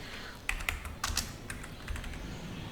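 Soft, quick keystrokes on a computer keyboard as commands are typed into a terminal, a few scattered light clicks over a quiet room hum.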